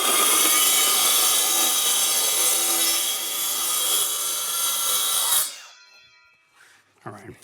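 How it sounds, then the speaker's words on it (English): A power saw rips through a hardboard panel for DIY shelving, a loud steady buzzing cut lasting about five seconds that stops abruptly and leaves a short quiet tail with a faint knock. "I'm going to cut a hardboard panel, 3 feet tall, by the full length"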